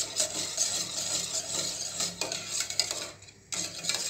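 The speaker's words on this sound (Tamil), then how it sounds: "விஸ்க் வச்சு நல்லா கிளறி எடுத்துகிட்டு வந்துக்கிறேன்" A whisk stirs foxtail millet milk pudding in a pot, quick scraping strokes and light metallic clinks that come close and fairly soft, with a brief pause near the end.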